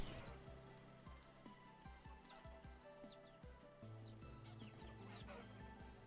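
Chickens in the video game Vintage Story give faint, repeated clucks at a steady pace alongside occasional small chirps, all quiet and distant.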